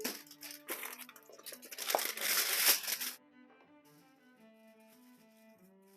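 Aluminium foil is crinkled and pressed over food before cooking on a wood-burning stove, giving about three seconds of close, crackling rustle that stops abruptly, leaving quiet piano-like music.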